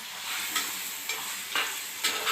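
Beef liver frying in oil in a pan, a steady bright sizzle with soft periodic stirring scrapes about every half second.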